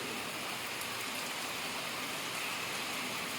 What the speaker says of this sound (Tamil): நல்ல மழை பெய்யும் ப்ரோ